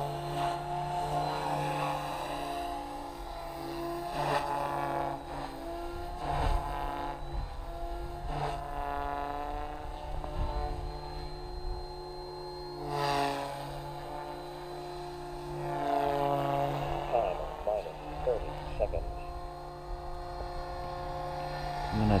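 A Goblin 380 RC helicopter's rotor spins at high RPM outdoors in cold winter conditions, giving a steady, droning whine with wavering pitch. It holds at moderate distance for over twenty seconds, with occasional bumps and handling noises.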